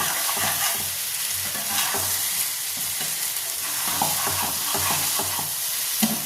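Chicken liver curry sizzles in hot oil while a spoon stirs it, making a continuous bright crackling fry with repeated soft scraping strokes against the pan.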